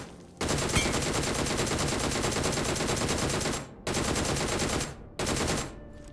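Gunfire in a battle royale video game fight: loud, dense bursts of rapid automatic fire, three long sustained volleys separated by brief gaps.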